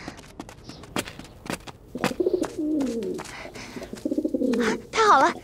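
A pigeon coos up close in a few throaty warbling bursts, mixed with flapping and scuffling sounds, in a period martial-arts drama scene.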